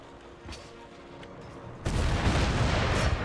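Cannon fire in a Napoleonic-era strategy battle game: a faint thump early, then a sudden loud rumbling burst of booming artillery that rolls on and holds to the end.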